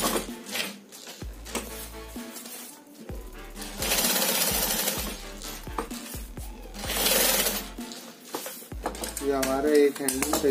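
A sewing machine stitches the handle of a cloth shopping bag in short rapid bursts separated by pauses, loud and close, with fabric handling sounds between runs.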